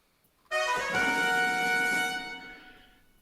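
A loud air horn honk, played as a sound effect, blasts suddenly and holds a bright, buzzy sustained tone for about a second and a half before fading away.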